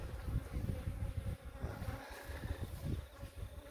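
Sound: bees buzzing around a beehive in a meter box

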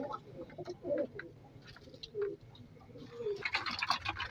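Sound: pigeons (highflyers) cooing while eating millet

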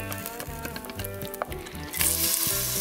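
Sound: onion, garlic and peppers sizzling in pan drippings

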